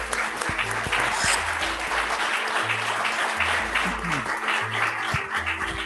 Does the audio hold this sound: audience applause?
yes